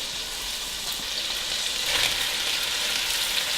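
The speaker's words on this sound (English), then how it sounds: "We're going to add the onions and garlic in with the meat now and let them caramelize a little bit." Onions and garlic sizzle with browned meat in a pan for paleo chunky chili, a steady loud broadband frying hiss that swells slightly midway, with no talking.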